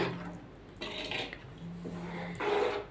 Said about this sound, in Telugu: ఇప్పుడు మనము ఇంతట కలిపి పెట్టుకున్న కందిపప్పును చింతపండు చారు పోసుకుందాము ఒకసారి మిక్స్ చేసుకుందామండి